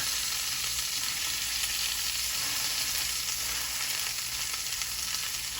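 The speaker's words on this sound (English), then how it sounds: "Just going to let this fry a little bit on this side." A steak frying in a pan alongside an asparagus dinner, giving a constant, loud crackling sizzle close up, steady throughout with no talking.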